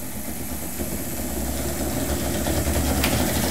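A DC motor driven by PWM speed control through a Velleman K8055 USB interface board hums and vibrates steadily, its close, continuous drone growing slightly louder and brighter as it speeds up.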